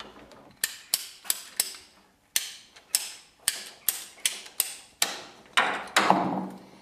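Underfloor heating pipe is cut with a hand cutter while a NORDIC TEC manifold is being hooked up. About a dozen sharp, close ratcheting clicks come in a steady rhythm, with a short pause midway and a longer crunch at the end.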